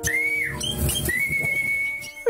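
A person whistles long, steady high notes to call sparrows, one gliding tone held for a while, close by over rustling background noise.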